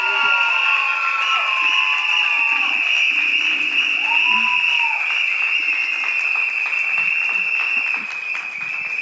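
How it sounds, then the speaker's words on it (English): An audience applauds and cheers at a fireside-chat style talk event, a dense sustained wash of clapping and whoops lasting throughout, loud and close, easing slightly at the very end. "Let's give a huge round of applause to Leela."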